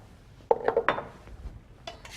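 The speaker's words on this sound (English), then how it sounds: "So I'm whisking my eggs and my half and half together" A whisk strikes a bowl while beating eggs and half and half together: a short run of sharp metallic clinks and taps, fairly close, followed by a brief pause and a couple more light knocks.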